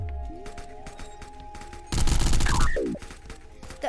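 Rapid automatic submachine gun fire with an extended magazine rattles off in a loud sustained burst, preceded and followed by scattered single shots in a busy video game soundscape.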